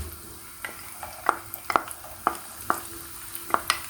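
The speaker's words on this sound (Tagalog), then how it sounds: "lalagyan na natin ang sibuyas. Magsabay-sabay na yan. At saka ang bawang." Onion and garlic fry in a pan with a steady soft sizzle, broken by several sharp scraping stirs and clinks from a utensil against the pan, close by and with no talking.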